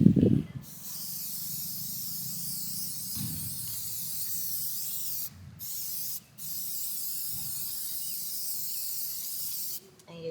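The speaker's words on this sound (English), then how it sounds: "once I spray all the tires, then I'll come back and I'll wipe it off" Tire shine sprayed onto the tires of a Jeep Trackhawk, a long continuous close hiss broken by two short gaps, with a few faint knocks at the start.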